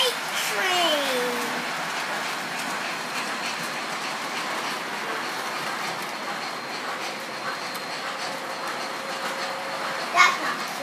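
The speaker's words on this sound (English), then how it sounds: "There goes your Polar Express freight train." MTH Polar Express model freight train with a three-engine lash-up running on a tabletop layout, giving a steady low rumble throughout with a faint tone sweep near the start and a brief click near the end.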